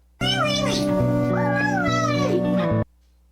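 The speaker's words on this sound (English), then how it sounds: "it would be one of a cat meme going ee wee" A cat-meme meow plays as one long, bending, high-pitched wail lasting a couple of seconds, loud and alone, starting and stopping abruptly.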